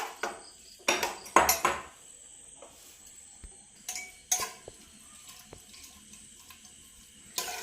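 A spoon works through rice porridge with jaggery in a cooking pot, giving faint, scattered clinks and scrapes against the metal in short irregular bursts, with quiet gaps between them.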